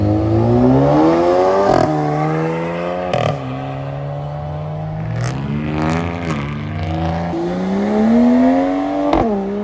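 Cars with 5.7 engines rev loudly as they leave a car meet, a sustained, rising and falling engine roar with strong rumbling harmonics and a few sharp pops, close and continuous with no talking.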